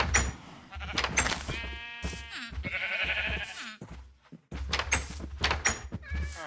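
Sheep in Minecraft bleat repeatedly, several short nasal calls spaced irregularly over a few seconds, mixed with brief clicks and game thumps, fairly close and clear with no talking.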